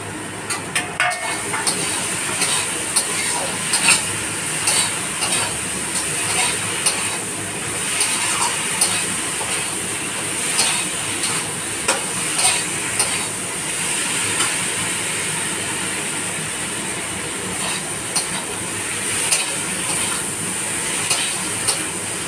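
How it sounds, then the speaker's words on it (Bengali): Ridge gourd pieces stirred into a cooked-down spice paste in a pan, a steady close sizzle with repeated scraping stirs throughout, no voices. "মশলাটা কষানো হয়ে গেছে এর মধ্যে আমি ঝিঙেগুলো দিয়ে দেবো"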